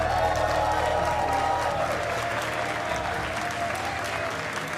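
A live audience at the Red Bull Wololo Age of Empires event in Londinium applauds and cheers steadily, a dense, loud wash of clapping that holds at an even level from start to finish.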